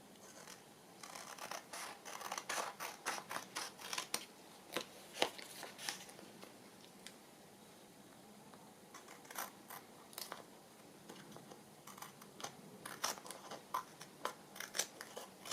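Scissors cut through paper garden collage journal cards, making a series of crisp snips and rustling paper scratches in irregular bursts, quiet and up close.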